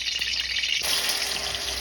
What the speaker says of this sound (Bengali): পনির ভাজা হচ্ছে দেখো বন্ধুরা